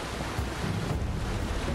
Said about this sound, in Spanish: Cuidado con las olas